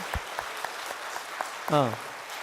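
A Sunday church congregation gives scattered, loose hand claps at a fairly low level while a voice speaks briefly over them.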